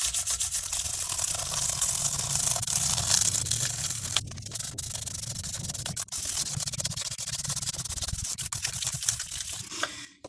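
Guitar frets rubbed with 1000-grit sandpaper give a steady, close scratchy back-and-forth rasp that runs almost unbroken, with a couple of brief pauses and a soft tail at the end.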